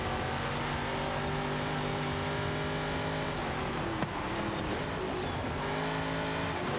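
Racing engine of an Xpeng car in Forza Horizon, a loud sustained drone with layered harmonic tones shifting in pitch as it accelerates, with a sharp brief knock around the middle.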